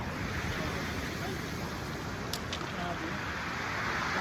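Strong ocean surf at a rocky beach in Luna, La Union, a dense continuous wash of crashing water roaring loudly and steadily with no clear breaks.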